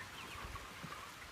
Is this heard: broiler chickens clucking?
yes